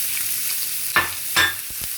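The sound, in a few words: chopped onion frying in hot oil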